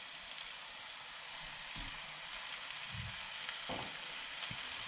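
Spinach sizzles and fries in a pan with onions over low heat, a continuous soft crackle broken by a few brief scraping stirs, with no voices.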